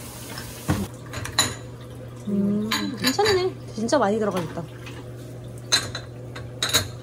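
Pans and dishes clink and clatter sharply in scattered bursts as kitchenware is unpacked and arranged at home, with people talking in Korean between the knocks.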